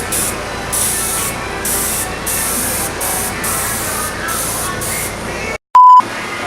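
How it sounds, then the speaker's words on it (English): An airbrush machine hisses in steady bursts during a barber haircut, several pulsed sprays of a few seconds each close by, ending with a short electronic beep. "That was the technique in using an airbrush machine"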